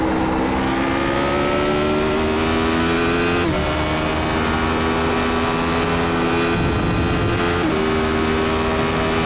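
Radical SR8 race car in iRacing at Spa-Francorchamps, a loud high-pitched engine wail holding steady, dipping sharply twice as if shifting gears, then climbing again, with no talk.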